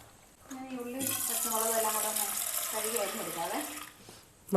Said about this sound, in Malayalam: ഇനി നമുക്കതൊരു 3-4 പ്രാവശ്യം ഒന്ന് ഒലച്ച് കഴുകിയെടുക്കണം